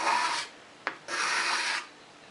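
Card scraper drags across wood in two long strokes pulling shavings, a rasping scrape close by, separated by a short sharp knock.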